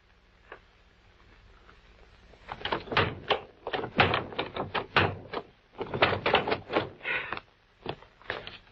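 A sticking door is worked open: after a quiet start, a long series of close, dry knocks, scrapes and rattles comes in irregular clusters for several seconds.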